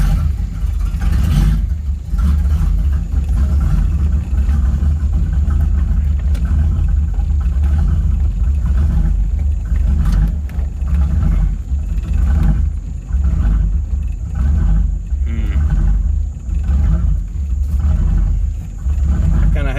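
A freshly repaired car being readied for Power Tour rumbles steadily down a street, its engine a loud, continuous low drone heard from inside with slight rises and dips in revs.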